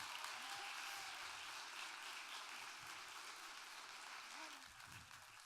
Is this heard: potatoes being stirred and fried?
no